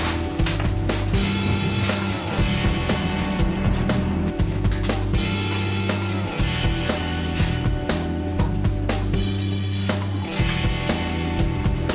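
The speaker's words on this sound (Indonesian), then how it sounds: "pemasangan mur bautnya menggunakan ring pair" Nuts and bolts with spring washers are tightened while a Krisbow table saw is assembled, producing a continuous run of close, loud, rhythmic ratcheting clicks and metallic rubbing.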